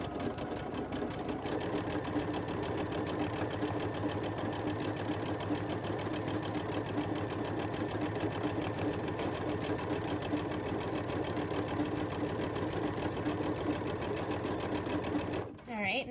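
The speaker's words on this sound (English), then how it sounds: "I'm going to slide my fabric so that it's close to the edge here, and I'm just going to start sewing" A sewing machine fitted with a pintuck foot stitches a pintuck in fabric, running steadily with a fast, even mechanical chatter for the whole stretch before stopping abruptly near the end.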